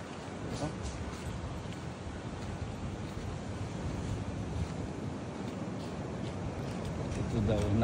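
Strong ocean waves under a yellow warning roll in at a beach resort in Morong, Bataan, a constant loud wash of surf with wind buffeting the microphone, growing slightly stronger toward the end.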